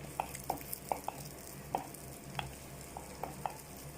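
Crushed ginger sautéing in a pan, a soft low sizzle with faint intermittent stirring clicks from a spoon, quiet and close with no talk.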